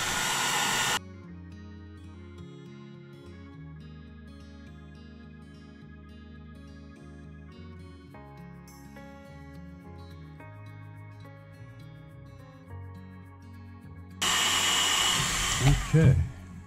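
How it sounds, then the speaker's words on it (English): Heat gun warming the bottom cover of a snow globe to soften glue, loud steady blowing roar at the start and again near the end, with music playing in between. "So Ali, if you could heat that up, I will go ahead and try to get it off once the glue is melted"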